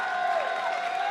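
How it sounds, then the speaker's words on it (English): Audience applause fills an esports arena at a League of Legends tournament, a dense wash of clapping and crowd noise, steady and moderately loud. "Great applause here for Gambit Gaming."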